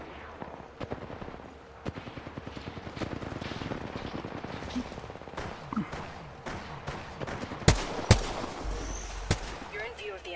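Gunfire in a first-person shooter game, scattered shots and rapid bursts crackling at a distance under the game's ambient noise, with a few sharper, louder bangs near the end.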